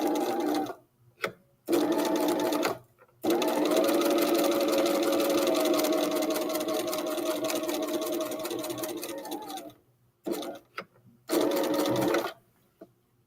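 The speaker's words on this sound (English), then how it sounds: "I am going to go forward and back stitch and then go all the way to the other end" A sewing machine runs a quarter-inch seam forward and back, in close, loud bursts of rapid stitching: short runs at the start, one long steady run in the middle, then brief bursts near the end, with pauses between.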